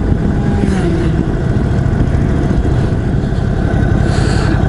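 A 2021 Indian Chief Dark Horse cruiser motorcycle drones steadily at 80 in sixth gear, a low continuous hum mixed with rushing wind, close and loud throughout.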